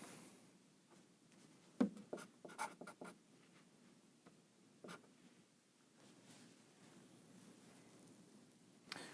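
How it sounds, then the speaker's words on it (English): Equation written out on a lecture board, faint chalk-like strokes and taps in a quiet room, a cluster of brisk marks early on followed by sparser scratches. "And I'll write it down just one more time for us."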